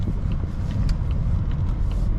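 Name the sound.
2021 Volvo S90 T6 R-Design accelerating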